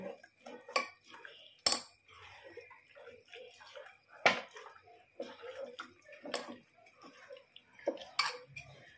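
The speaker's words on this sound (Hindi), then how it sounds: "अभी हम मिक्स करेंगे अच्छे से" Fish being mixed with spices for a fish curry, heard as sparse clinks and scrapes of a utensil against a bowl with soft wet handling sounds between them, close by and with no talking.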